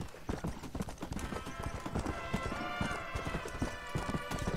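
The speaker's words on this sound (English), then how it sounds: "Horse runs fast as fuck," Horse galloping in Red Dead Redemption, a steady rapid clip-clop of hooves with a brief whinny, moderately loud and close.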